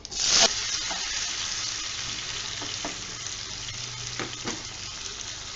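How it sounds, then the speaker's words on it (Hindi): Cumin and mustard seeds in hot oil for Rajasthani sev tamatar sabzi, opening with a sharp, loud burst of sizzle that settles into a steady close frying hiss with scattered pops and crackles, with no voices. "देखिए हमारा जो है जीरा और राई जो तड़तड़ाने लगी है।"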